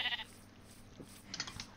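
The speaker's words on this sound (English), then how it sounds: "I'm going to say no to that sheep real quick" Quiet sheep bleats from a video game: a short high bleat at the start and another pair near the end, faint over a low steady background hum.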